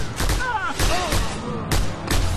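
A mounted gun fires in the Just Cause 2 video game, loud repeated bursts of gunfire pounding in uneven clusters at close range, mixed with game noise and effects.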